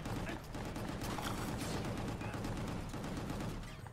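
Rapid gunfire rattles in a first-person shooter video game, dense repeated shots in a continuous loud burst filling the whole moment.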